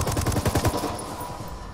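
Rapid automatic gunfire in the Ghost Recon video game, a close, loud burst of about a dozen evenly spaced shots that stops abruptly and leaves a fading echo.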